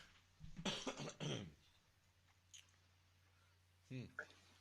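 A person with a bad cold coughs in a close, rough double burst, followed by quieter throat noises and a small cough near the end over a faint background hum.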